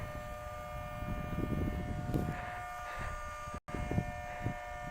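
A mini 2T22 siren sounds its noon test outdoors from about 100 feet away, a steady droning tone over gusty wind rumble, moderately loud.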